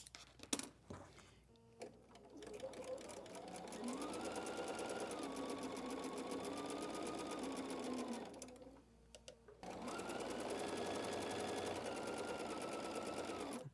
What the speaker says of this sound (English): Okay, so we've sewn on our lines.